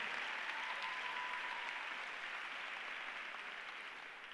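A youth conference audience applauds the team, a soft, distant, steady wash of many hands clapping that slowly fades near the end.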